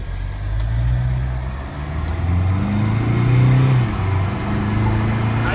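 Car engine accelerating on a road while racing a Mahindra Scorpio, recorded from inside a Tata Safari Facelift Dark Edition 2023, a steady mid-pitched engine drone rising and falling with gear changes, loud and continuous with no talk.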